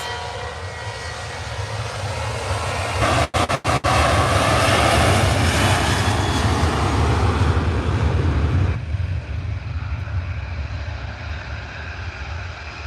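A Turkish Airlines airliner lands at Manchester Airport, its loud continuous jet roar and rush sustained throughout and briefly cut by a few dropouts early on, with no talk.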